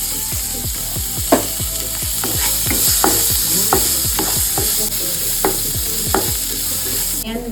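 Chopped onion with whole spices, fennel among them, frying in a pan: a loud, steady sizzle broken by a regular run of sharp scraping stirs, close up, with no talking.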